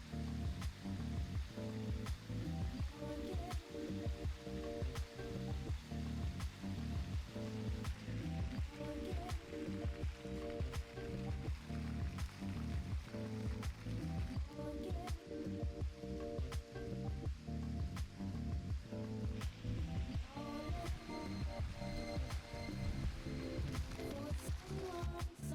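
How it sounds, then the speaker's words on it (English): A waterfall at a lake on a golf resort pours steadily, a dense, unbroken rushing and splashing that holds at an even level throughout. "we actually have a waterfall"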